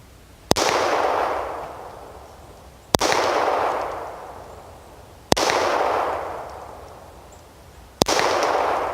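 Four single shots from a Ruger P345 .45 caliber pistol fired at 25 yards outdoors, each a sharp loud crack with a long fading echo, spaced about two to three seconds apart.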